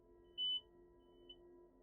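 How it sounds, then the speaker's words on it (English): A fire alarm gives one short, high-pitched electronic beep in a quiet room, followed a moment later by a much fainter second chirp. "but that was a fire alarm"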